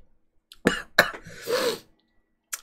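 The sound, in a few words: coughing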